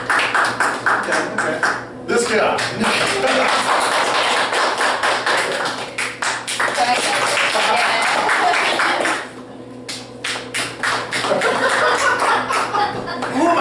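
Comedy show audience applauding to vote: bursts of clapping with some chuckles, rising and falling between stretches of a comedian speaking to the crowd.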